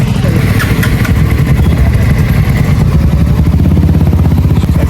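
A motorcycle engine rides behind an Aprilia, a loud and steady drone with wind rush and rumble close at the mic throughout.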